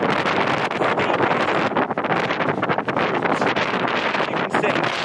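Strong wind roars continuously across the microphone on a steep hillside route during a Yorkshire Three Peaks hike, a loud, buffeting rush that fills the whole stretch with no pauses.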